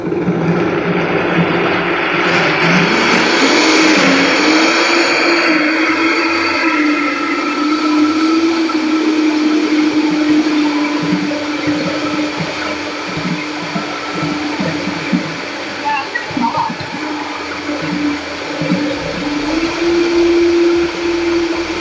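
Blender whirring through pumpkin pancake batter, a loud continuous motor hum with a slowly shifting pitch that holds steady for about twenty seconds.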